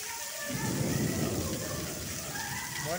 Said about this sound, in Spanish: Está tronando. No sé si llegan a oír los truenos.